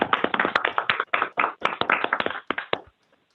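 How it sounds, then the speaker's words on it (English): A small group of people clapping for retiring employees at a school board meeting, close and distinct individual claps in a brisk irregular burst that thins out and stops after about three seconds. "please join me in a round of applause congratulating all of these employees on"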